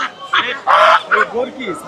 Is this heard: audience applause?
no